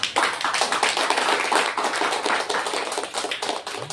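A church congregation claps together, a dense rapid patter of many hands filling the room, loud and sustained without a break.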